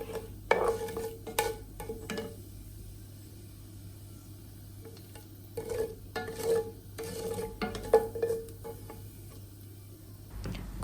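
Whole spices tipped into hot oil in a pan for spicy potato sabzi, crackling in short, lively bursts that flare up and settle back, with quieter stretches between them and no talking.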